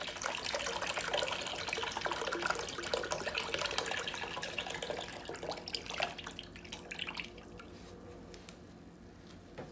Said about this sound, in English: Then we're gonna add some beef broth